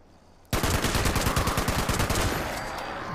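A .50-calibre gun in Fallout 76 opens up after a brief quiet moment, a loud, close, rapid-fire stream of heavy shots continuing without pause for several seconds.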